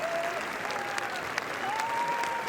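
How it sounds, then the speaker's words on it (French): Festival crowd applauding on the Cannes 2017 red carpet at The Beguiled premiere, a dense, steady wash of clapping with a few sharper claps and faint whistles throughout. "Thierry Frémaux et tous les festivaliers applaudissent à tout rompre."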